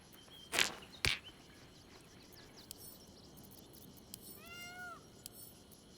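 A single cat meow in Baldur's Gate 3, a faint falling cry heard near the end after two sharp knocks, over a quiet hiss of game ambience with crickets.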